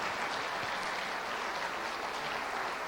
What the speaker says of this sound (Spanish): vamos a dar un aplauso a todos ellos por favor